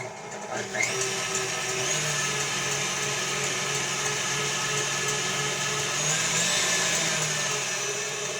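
Electric mixer whipping heavy cream with mango chunks for mango mochi, a steady loud whirring drone that starts after a brief quiet moment and runs continuously without pause.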